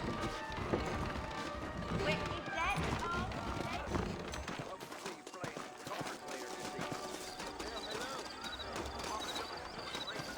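Horse hooves clip-clopping steadily at a brisk pace in the video game Red Dead Redemption, under a busy mix of music and voices, moderately loud throughout.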